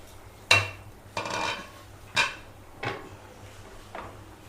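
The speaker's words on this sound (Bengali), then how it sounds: "তো ঢাকনাটা আমরা খুলে ফেললাম" A metal lid comes off a cooking pot of bitter gourd and pumpkin curry with a few sharp clanks and scrapes of metal on metal, spaced out and close by, in a quiet kitchen.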